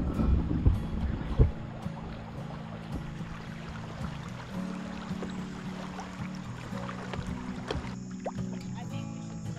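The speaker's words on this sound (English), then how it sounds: "Nothing really beats these sunset paddles" A kayak or canoe is paddled on the Allegheny River at sunset, with soft water swishes and knocks against a low wind rumble and faint voices in the background.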